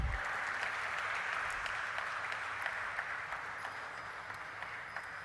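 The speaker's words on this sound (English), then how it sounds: "Let's have a round of applause, ladies and gentlemen." Sustained crowd applause at a stock exchange listing ceremony, a steady broadband patter of many hands clapping evenly throughout, moderately loud and with no talk over it.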